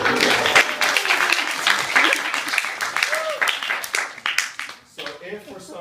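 Guests at a Katb al Kitab wedding ceremony break into a burst of lively clapping, with voices and cheers mixed in and the applause thinning out toward the end.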